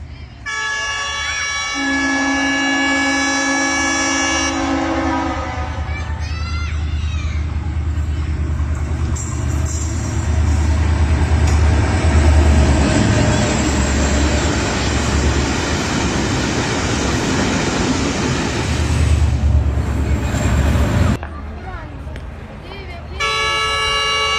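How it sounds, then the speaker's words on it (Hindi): A freight train arrives at Chak Pirana railway station in Pakistan, its horn sounding in long tones before and after a heavy, loud rumble and clatter of passing wagons, with voices in the background. "जब मालगाड़ी की आमद हो रही थी"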